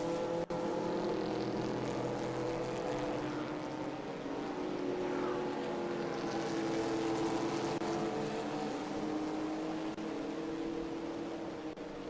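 BMW M2 race cars at speed on the Indianapolis Brickyard circuit, a continuous loud engine drone that swells and fades as cars pass, distant and steady without voices.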